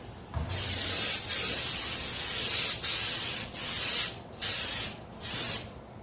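Aerosol spray can bursts of Rust-Oleum paint onto a Club Car golf cart panel, several close, loud hissing passes separated by brief pauses, with no talking.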